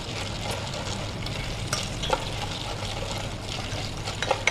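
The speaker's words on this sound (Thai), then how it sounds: "ตอนนี้น้ำมันเขาเริ่มร้อนแล้วนะคะ เราสังเกตจากที่เขามีฟองอากาศขึ้นมาค่ะ" Cooking oil heating in a pot with corn kernels for cheese popcorn over medium-low heat, giving a steady soft sizzle and faint bubbling with a few small pops near the end, close and continuous with no talking.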